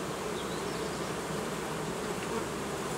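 Honeybees in an Ursu hive nucleus give a close, steady, dense buzz that holds unbroken throughout.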